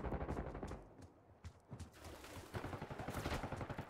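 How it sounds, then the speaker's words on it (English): LMG fire in Black Ops 6, sustained rapid automatic bursts with a rhythmic rattling pulse, loud and close, broken by a brief pause before resuming. "this LMG kills so fast"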